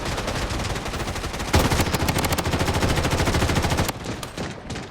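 Rapid automatic gunfire from the shooter game Blood Strike, a dense, loud burst of rattling shots that intensifies partway through, then cuts to a few scattered, quieter shots.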